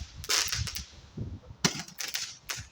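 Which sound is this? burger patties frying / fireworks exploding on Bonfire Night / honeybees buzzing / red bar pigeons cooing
fireworks exploding on Bonfire Night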